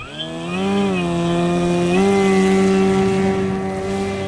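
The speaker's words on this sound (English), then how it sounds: "As I taxi the Cirrus out for takeoff" Great Planes Cirrus SR22T RC airplane engine droning steadily as the model taxis out for takeoff, a loud continuous buzzing tone that rises slightly in pitch partway through and holds.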